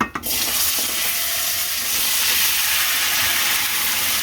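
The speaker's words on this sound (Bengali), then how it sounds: "দিয়ে দিলাম হলুদ মরিচ সব কিছু দিয়ে আছে আমি তাই নাড়া দিই" A village-style fish curry with turmeric and chili is stirred in a hot pan after a short clank at the start. A loud, close, continuous hissing sizzle fills the rest, with no voices.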